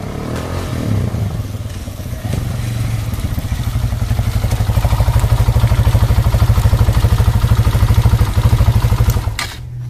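A Benelli 150S motorcycle engine, freshly fitted with a Hyperclutch and a Tobaki clutch plate, spring and iron plate set, runs close by with a rapid, rhythmic thumping idle that builds steadily and then drops off near the end.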